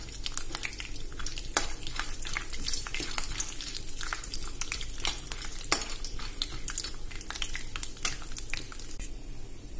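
Chana dal and peanuts fry in oil for a mint chutney tempering, producing a close, crackling sizzle dotted with frequent sharp pops and stirring scrapes.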